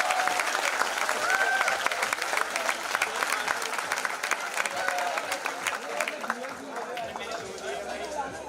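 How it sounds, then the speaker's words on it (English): An audience at an IIIT Surat convocation ceremony applauds the graduates, a dense, sustained clatter of many hands that fills the hall, with crowd chatter and cheering mixed in and slowly easing toward the end. "So let's give them a full round of applause."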